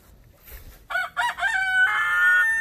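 A rooster held upside down in a culling cone lets out a loud, close crowing squawk, rising and holding for a second or two.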